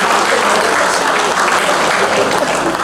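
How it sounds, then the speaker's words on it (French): Applause from the audience at a charity benefit evening for a nonprofit organization, a loud, close, continuous wash of many hands clapping without a break. "Une main d'applaudissement, n'est-ce pas, pour cet organisme"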